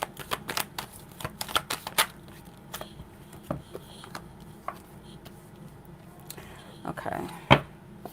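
Tarot cards are shuffled for a reading, a series of close, sharp riffling bursts and taps that cluster in quick runs and then thin out into scattered softer flicks, with faint talk underneath at times.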